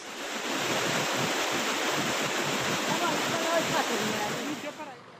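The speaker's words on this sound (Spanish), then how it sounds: "Por la cantidad de agua, las quebradas y canales del municipio no dieron abasto y se rebosaron." Floodwater rushes through overflowing ravines and canals after torrential overnight rain in Suesca, Cundinamarca, a loud, steady broadband roar that swells in and holds without a break.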